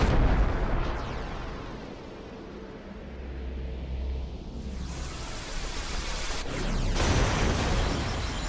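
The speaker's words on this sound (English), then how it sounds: "It's a good thing we weren't in the middle of that explosion." A video game explosion in Final Fantasy X HD booms and rumbles, followed by a long roaring wash of noise and debris, with a second burst near the end.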